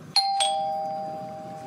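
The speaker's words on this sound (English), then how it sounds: "Now that I ring the doorbell," A doorbell rings loud and close, two quick chimes followed by a sustained ringing tone that slowly fades, with no talking.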